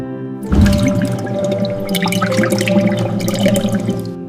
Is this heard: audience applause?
no